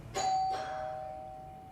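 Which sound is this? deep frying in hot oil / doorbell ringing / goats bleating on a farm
doorbell ringing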